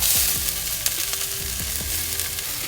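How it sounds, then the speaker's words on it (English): Shallot frying in olive oil at the start of a sherry cream tomato sauce, a steady close sizzle with occasional soft pops and stirring taps, no talk. "Gonna start out with a little olive oil, 1 shallot,"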